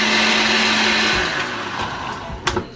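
A blender purees fruit for a fruit cake, a loud steady motor whir that drops in pitch and winds down midway, ending in a few clunks as the jar is handled.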